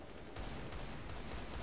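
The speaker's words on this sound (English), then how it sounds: "He shot like once at him." A gunshot in the video game CS:GO, heard as a few faint, muffled shots against constant dense game noise.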